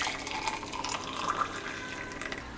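Boiled water poured into homemade health mix powder in a kitchen, a soft, steady trickle and splash of liquid, close but fairly quiet, with no talking.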